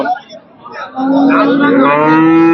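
A cow at a cattle market lets out a long, loud, close moo that swells and holds to the end, after a brief grunt and a quieter pause.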